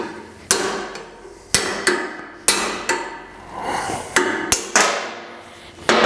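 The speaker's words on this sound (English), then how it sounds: "You just got the hammer and we're gonna nail this thing out." Sharp metal-on-metal hammer strikes driving a bearing race out of a 1999 Kawasaki KX250 motorcycle, roughly nine close, loud hits in an uneven rhythm with short ringing decays and no talking.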